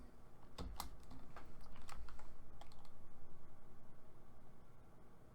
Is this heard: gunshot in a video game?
no